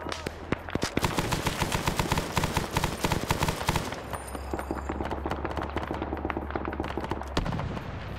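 Machine gun fire in a Vietnam War game battle at Khe Sanh, rapid sustained bursts of loud automatic shots that keep going almost without pause, with more gunfire and a low rumble behind.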